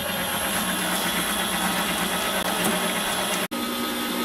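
An electric mixer runs at medium speed, creaming brown sugar and cane sugar into a steady, loud, continuous whir, with a brief dropout near the end.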